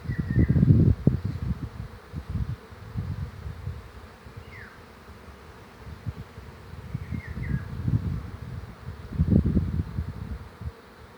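Young honeybees make orientation flights around a fully working apiary: a low, swelling and fading buzz of many wings passes close by in waves, with a few faint bird chirps in the open-air background.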